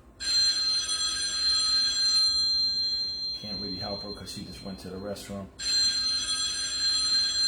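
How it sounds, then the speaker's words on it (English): A mobile phone ringtone trills loudly nearby in a home kitchen, stops while a person speaks briefly, then rings again. "phone just went off"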